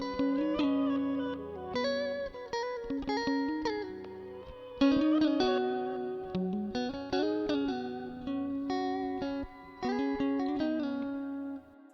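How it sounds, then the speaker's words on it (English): Layered electric guitars play melodic lines trading phrases, washed in echoing delay and reverb, steady and full throughout. "this is what it sounds like with the two other guitars"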